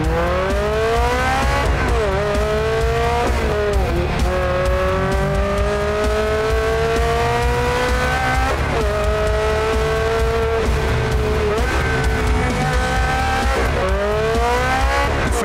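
A loud, high-revving Stradale sports car engine screams up through the gears, pitch climbing and dropping sharply with each shift, continuous and close.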